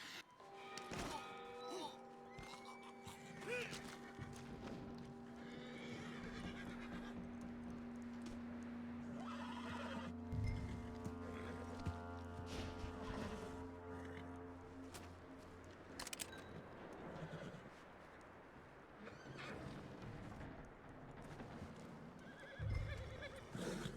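A horse in Red Dead Redemption 2 whinnies loudly, then neighs again later over soft hoof clops and thuds, with no talking.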